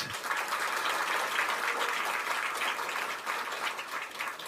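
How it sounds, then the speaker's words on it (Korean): Rally audience applauding: a dense, steady wash of clapping from a crowd, loud and continuous throughout without pause. "그러면 뜨거운 박수 한번 보내주십시오"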